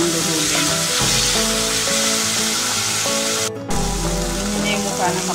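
Tomatoes sizzle in a frying pan for a fish dish, with a loud, steady crackling hiss close by that carries on almost without break.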